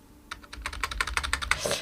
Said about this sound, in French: je peux saisir ma date directement donc au clavier